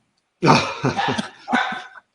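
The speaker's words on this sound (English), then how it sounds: "my dog's going nuts" A dog barks at home, heard as three or four hoarse, rough barks in a quick, uneven burst followed by one more after a short gap. The barks are fairly close and loud, with silence before and after.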